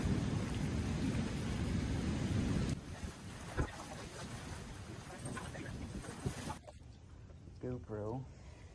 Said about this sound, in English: the wind is picking up. It is pouring rain outside right now.